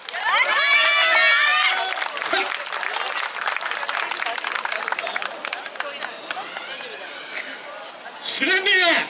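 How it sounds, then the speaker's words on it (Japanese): At a yosakoi dance festival in Tokyo, a crowd cheers for the Shuranbu dance team with loud, sustained clapping. Shouted voices burst out at the start and again near the end. "熱いご声援のほどよろしくお願いします。"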